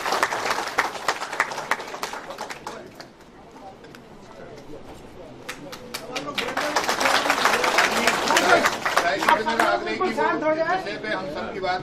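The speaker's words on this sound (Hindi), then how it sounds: "जोरदार तालियां।" An audience at a political gathering claps in scattered bursts that swell into dense, sustained applause, with crowd chatter and voices mixed throughout.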